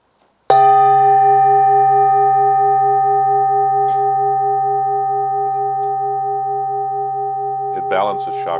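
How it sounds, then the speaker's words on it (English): A Tibetan singing bowl is struck once and rings with a loud, layered tone that lingers and slowly fades over several seconds, with a faint knock near the end. "This is my favorite Tibetan bowl."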